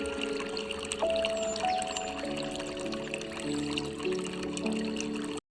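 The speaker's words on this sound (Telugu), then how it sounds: "అందులోకి ఒక 2 టేబుల్ స్పూన్ల ఆయిల్ని వేసుకుందాం." Two tablespoons of cooking oil poured into a rice pot on a stove, a soft continuous pouring and trickling under steady kitchen background noise, close by with no speech.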